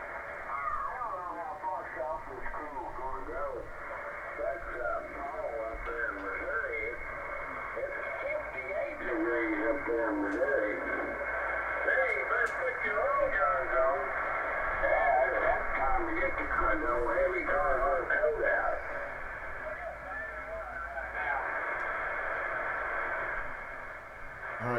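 A Heathkit HW-101 ham radio receiver picks up voices in a steady, narrow-band stream of radio speech with a constant static hiss beneath, sustained and fairly loud throughout.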